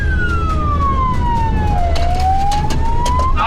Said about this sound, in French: Attends, on met la sirène un peu.